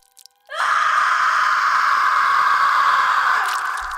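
A woman in an audio drama lets out a loud, shrill, sustained scream that bursts in suddenly and holds steady for about three seconds before trailing off.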